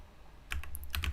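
Typing on a computer keyboard, a short run of close, quick key clicks after a quiet start, with no talking.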